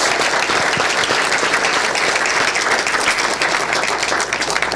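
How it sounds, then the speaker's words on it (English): Loud, sustained applause from a conference audience thanking the event organizers, dense and even throughout nearly five seconds with no break or talking. "Let's give a big round of applause to those guys"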